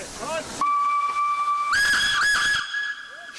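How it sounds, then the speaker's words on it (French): A 241-P steam locomotive whistle blows a long, loud steady tone that rises in pitch, then gives a second short blast, with hissing steam around it. "Voilà, le sifflet."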